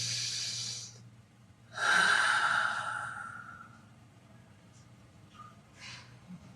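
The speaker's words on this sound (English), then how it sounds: "take a deep breath." One deep breath taken during a quiet guided meditation: a soft inhale, then a long, audible sighing exhale close to the microphone, with faint room noise afterward.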